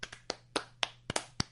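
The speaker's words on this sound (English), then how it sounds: "sarcastic applause." Sarcastic applause comes from one pair of hands: about seven sharp, uneven claps close up over a second and a half, with no talking.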